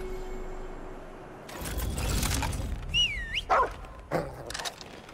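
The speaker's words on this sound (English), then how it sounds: "This is the handler with a dog." A handler's dog companion in Remnant 2 barks and whines: a burst of rough noise followed by high, sliding whimpers and a few short yelps, close and clear.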